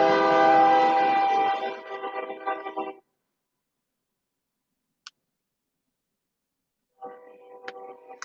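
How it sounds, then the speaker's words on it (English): A passing train sounds its horn loudly for about three seconds, then a long silence, a single tick, and the horn returns more faintly near the end; no talk. "train"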